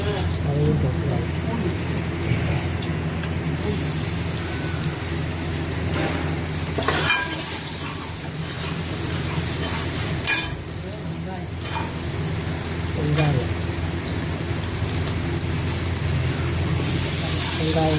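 Crushed garlic and curry leaves fry in hot oil with a steady, loud, dense sizzle and crackle throughout, plus occasional stirring clatter, while someone talks over it.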